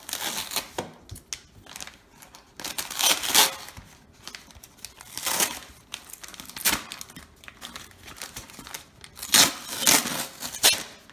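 Packing tape being peeled off a cardboard box during an unboxing, a series of crinkly, tearing bursts of varying loudness, close up, with no talking.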